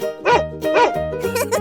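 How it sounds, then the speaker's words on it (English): A dog in a 3D animal video game barks three times in quick succession, each bark loud and close over a steady synthetic music backing. "Dog."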